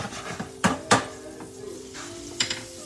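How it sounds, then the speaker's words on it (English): A whisk scrapes and clanks against a pan as browning gravy for smothered liver and onions is stirred, with a few sharp metallic knocks amid a soft sizzle. "So we're just going to whisk it around."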